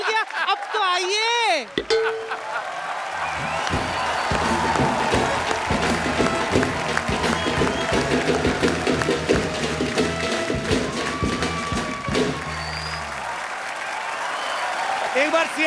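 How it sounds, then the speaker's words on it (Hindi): Studio audience applause on the set of The Kapil Sharma Show, a TV comedy program, rising as a steady roar of clapping with some cheering over a backing beat and music, loud and sustained after a brief opening voice. "एक बार सीआईडी की पूरी टीम के लिए जोरदार तालियां।"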